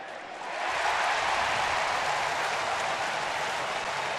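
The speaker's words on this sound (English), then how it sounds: "You've never heard such a cheer for a pop fly" A stadium crowd at a Washington Nationals baseball game swells into loud, sustained cheering and applause for a pop fly, a dense roar that rises quickly and holds steady.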